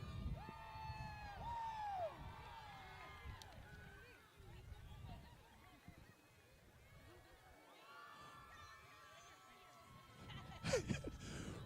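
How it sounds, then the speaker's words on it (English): A small crowd at a Dachshund Derby cheers and whoops for racer Rudy after his heat win. The cheering is fairly faint and distant and comes in swells, with an announcer talking over it. "Rudy's got a cheering section."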